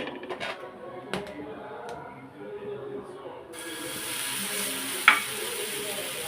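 Urad dal dosa batter sizzles on an oiled hot pan, a steady broadband hiss that swells partway through after a few scraping clinks of utensils, with one sharp tap near the end.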